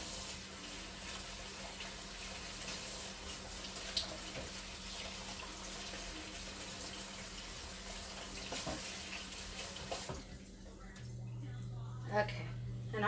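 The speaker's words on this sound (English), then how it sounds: "Just rinse my hands." Water runs steadily from a kitchen tap while hands are rinsed, a soft continuous wash that stops near the end, with a person talking.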